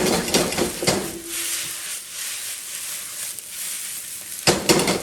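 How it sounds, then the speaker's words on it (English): Fried rice frying in a pan with dark soy sauce, regular soy sauce and sesame oil, giving a close, steady sizzle with sharp stirring clatters near the start and end, no talk. "So dark soy, regular soy, a little sesame oil. Let's fry this up some more."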